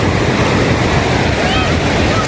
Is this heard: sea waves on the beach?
yes